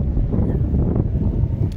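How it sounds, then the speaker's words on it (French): Steady wind at an old harbour in cold, fine rain blows hard and constantly into the microphone, a low roaring rumble with no pauses. "Sous ce vent et cette fine pluie glacée, ça se passe bien."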